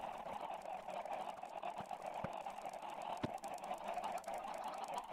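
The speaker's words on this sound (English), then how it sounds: "Now you can add in your chickens." Chickens cluck in a Minecraft auto chicken farm, soft scattered calls over a steady hum, with a few sharper clicks standing out.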